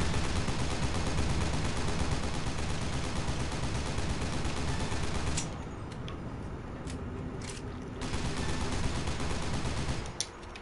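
Dense, loud gunfire in the shooter game Loadout roars for the first five seconds, then drops off, leaving a few isolated sharp shots and bursts.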